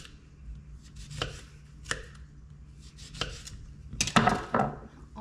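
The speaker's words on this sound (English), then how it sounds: "So I can throw some limes in. I have a lemon here. I'm just slicing it all up." Limes and a lemon sliced with a knife in a home kitchen: scattered close chopping thuds, then a denser burst of quick knife strikes against the board near the end, no voices.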